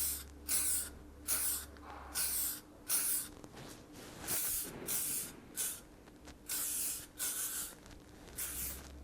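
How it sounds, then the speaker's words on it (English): L'Oreal Elnett hairspray sprayed onto hair in about ten quick bursts, each a short soft hiss separated by brief pauses, close to the microphone with a faint low hum underneath. "I'm going to hairspray it. This is the L'Oreal Elnett Hairspray"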